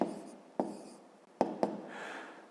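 Pen or pencil strokes on paper while working out a fifth-grade math exercise, soft scratching with a few sharp taps of the tip, faint and close.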